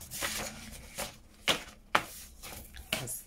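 Scissors cutting through a card file folder, making several short crisp snips spaced about half a second apart, close and fairly quiet with no voice.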